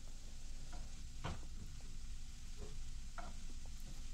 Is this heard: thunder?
no